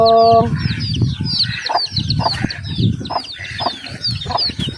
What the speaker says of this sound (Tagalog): Ang mga pato.